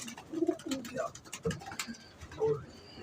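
Pigeons kept by a hobbyist coo in short soft phrases near at hand, repeated several times over about three seconds amid background noise.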